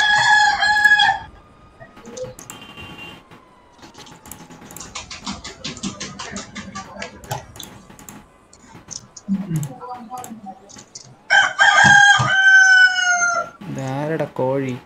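Rooster crowing inside the GTA 5 game world, several loud, drawn-out crows at the start and again near the end, with clucking fowl and people talking between them.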